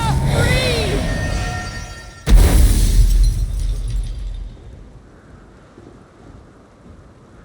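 A thunderclap cracks sharply during a storm in The Witcher 3, following an eerie whooshing magical sound, then rumbles and slowly fades into quiet ambience.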